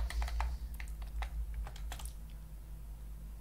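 Quick, uneven clicks on a computer keyboard as a command is typed, close and fairly quiet, in short bursts with a slight pause midway.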